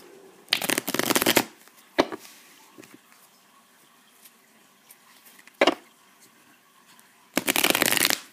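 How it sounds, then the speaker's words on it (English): Playing cards being shuffled in several quick riffling bursts, separated by quiet pauses and a couple of sharp taps, close up. "we're going to go ahead and shuffle the cards"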